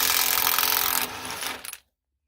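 Power tool working old bolts loose from the cutting edge of an International TD15 crawler dozer, a loud steady buzzing whir for about a second, then a lighter rattling run that stops abruptly, with no voices.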